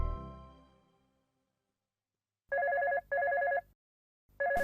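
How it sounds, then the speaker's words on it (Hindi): A telephone rings in three bursts of electronic trilling tones, separated by short silences, after a fading low resonant tone at the start. "इतनी रात को कौन फोन कर रहा है?"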